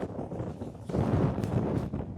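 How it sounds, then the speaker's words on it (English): Strong gusting wind buffets the microphone beside Lake Ontario in Toronto, a steady broadband roar that swells louder midway and stays close and rough throughout, with no voices. "It's very windy right now."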